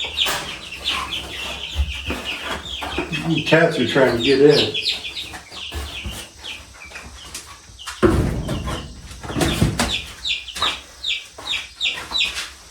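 Chickens cluck and squawk inside a homemade coop built from salvaged materials, with bursts of close clucking and a brief crow-like call, while a person talks over them at intervals.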